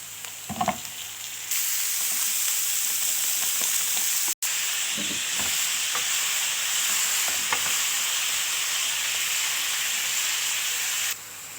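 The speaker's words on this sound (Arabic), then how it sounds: "هنزل بالبصل والثوم، وبعد كده هنزل باللحمة المفرومة بتاعتي" Minced meat fries with onion and garlic in a little oil, a loud continuous hiss and sizzle close by, with occasional scrapes of stirring and a brief cut partway through, and no talking.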